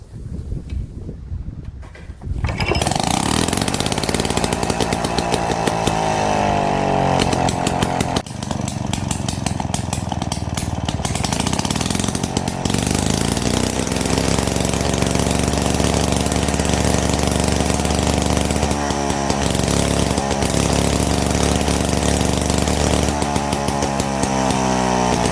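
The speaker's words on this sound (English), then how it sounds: "it was time to give it a test start." A restored Victa 18 lawn mower engine is pull-started and catches after a short tug, then runs loud and close with a steady, raspy two-stroke drone and slight shifts in pitch, with no speech.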